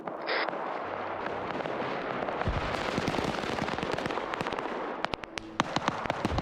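Rapid cracking bursts from an anti-aircraft Zeus gun firing in a military video game, a dense run of sharp repeated blasts and impacts filling the clip, growing sparser and punchier near the end.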